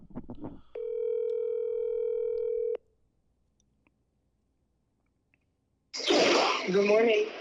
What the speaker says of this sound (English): Let me call my girl, Michaela, real quick.